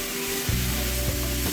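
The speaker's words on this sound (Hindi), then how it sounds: "इसको 1 से 2 मिनट के लिए अच्छी तरह भूनेंगे।" Carrots for gajar ka halwa fry in a pan with a loud, steady sizzle, broken by a few scraping stirs across the short stretch.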